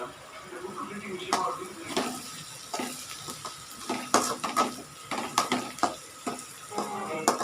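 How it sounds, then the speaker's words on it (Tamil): Ginger garlic paste sautéing in hot oil for a chicken gravy, a steady sizzle broken by repeated scraping stirs and light clinks of a spoon against the pan, fairly close and continuous. "இஞ்சி பூண்டு பேஸ்ட் போட்டுக்கலாம்"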